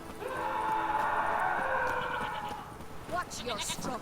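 Goats bleating in The Witcher 3 video game, a long loud wavering bleat followed by a few shorter calls, close up, with a person talking over part of it.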